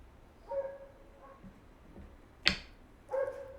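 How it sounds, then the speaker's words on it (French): A dog barks in short harmonic bursts, three separate calls spaced over a few seconds, with a sharp click between them, fairly close and alone without talk. "En plus, ça aboie pour rien, hein."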